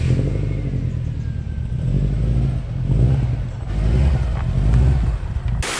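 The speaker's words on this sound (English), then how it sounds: "Just got to get this lovely Impreza P1 out first" A Subaru Impreza P1 engine rumbles loudly at close range in a Japanese car garage, its low drone rising and falling as the car pulls away slowly, with no voices.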